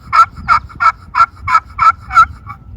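A hand-made turkey call is struck with a striker built from a corncob and the cut-off end of a carbon arrow, giving seven sharp, evenly spaced yelps, loud and close with nothing else over them.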